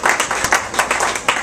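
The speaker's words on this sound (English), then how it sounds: "I just wanted everybody to give a round of applause for support for our veterans" A short burst of audience applause for veterans at a live performance, with steady overlapping claps throughout.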